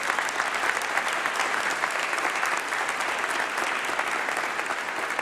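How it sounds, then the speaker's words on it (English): Applause at a winter graduation congregation for about two dozen newly graduated PhD doctors, a full, sustained crowd clapping that holds steady throughout. "The doctors deserve a huge round of applause."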